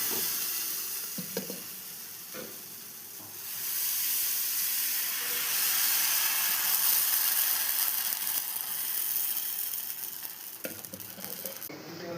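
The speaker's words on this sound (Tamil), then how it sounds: "நான் மாவு ஊற்றுவேன்" Dosa batter poured onto a hot oiled pan sizzles in a steady, close hiss that swells after a few seconds and then holds, with a few faint clicks and no talking.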